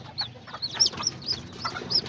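Small Serama and Azteca chickens cluck in a backyard coop, several short high clucks and chirps repeating irregularly at close range over a low background rumble.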